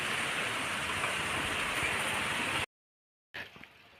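Heavy rain falling as a dense, steady hiss, loud and unbroken, then cutting out abruptly into silence before a fainter patter resumes.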